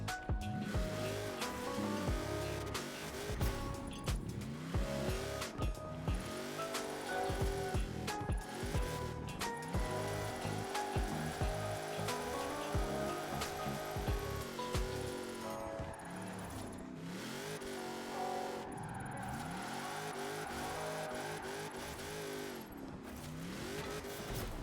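Tuned car drifting in a racing video game, engine note rising and falling with repeated revving and sliding tire squeal, loud and continuous throughout with no talking.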